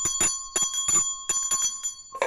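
A bright bicycle-style bell rings in a quick run of about eight sharp strikes, close and clear with short gaps between them, among other sounds in a children's music and sound game.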